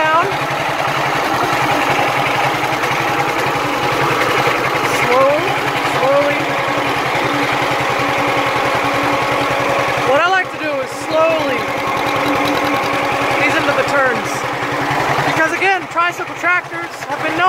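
A vintage John Deere H tricycle tractor engine chugs steadily with a rhythmic pop-pop idle, loud and close, its pitch rising and falling as it speeds up and slows.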